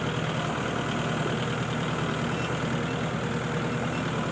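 Small farm tractor engine idling, a steady low rumble with an even hum close by, unchanging in level and with no voices.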